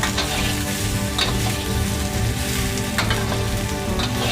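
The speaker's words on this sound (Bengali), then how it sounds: "দেখুন সবজিগুলো একটু ভাজা ভাজা করে নিচ্ছি" Vegetables for shukto fry in a pan with a steady, dense sizzle and crackle that runs unbroken from start to finish, close and moderately loud, with no voices.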